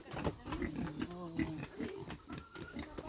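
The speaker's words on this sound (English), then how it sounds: "My cousin playing with the pigs, and here's the piglet." Pigs and a piglet grunt in short nasal bursts, close by, mixed with outdoor voices talking over them.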